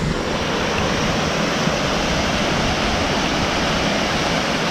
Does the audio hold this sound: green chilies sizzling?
no